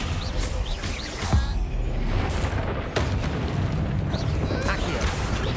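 Descendo spell impact in Hogwarts Legacy, a dense booming burst with crackling debris over busy game noise, followed by further rumbling effects, with a player talking.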